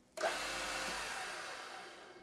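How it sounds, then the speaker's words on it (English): A small 1 mm drill bit spins in a drill chuck at high speed with a little cutting oil, giving a steady broadband whir that starts abruptly and slowly fades, close and alone. "1 millimeter drill bit running at 3000 RPM and using a little bit of cutting oil"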